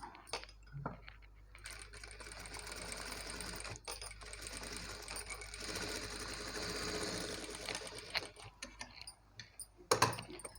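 A sewing machine stitches blouse fabric, a fairly quiet, close, continuous run of rapid needle clatter. A few light clicks and a sharp metallic tap come near the end, with no talking.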